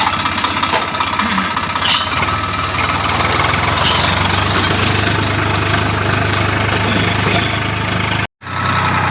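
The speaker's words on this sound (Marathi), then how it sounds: "रानाला रोटा मारायचं काम चालू आहे आणि रोटा आपण मल्टी स्पीडला मारत आहे।" A tractor pulling a rotavator across a field while preparing soil for onions runs at a steady, loud, close engine drone with grinding tiller vibration, cutting out briefly near the end.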